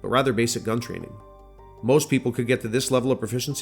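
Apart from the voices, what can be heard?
None of the usual background noises is heard.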